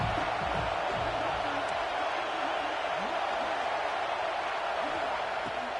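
Crowd roar at a college football stadium during a third-and-goal defensive stand, a dense, steady wash of cheering that stays constant throughout under faint voices.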